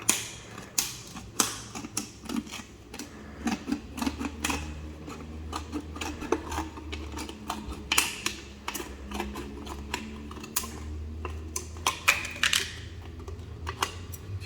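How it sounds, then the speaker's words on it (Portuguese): Scissors snip through the bottom of a plastic bottle, giving a steady series of sharp, crisp clicks and crunches over roughly fifteen seconds, close to the listener, with a low hum underneath. "vou cortar o fundo da garrafa"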